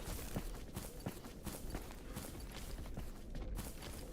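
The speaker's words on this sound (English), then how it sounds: "Those are big footsteps. Yeah, that has to be a pseudo giant." Heavy, regular thudding footsteps of a pseudo giant moving underground in a train tunnel in S.T.A.L.K.E.R. GAMMA, a steady plodding rhythm at moderate distance over low ambient rumble.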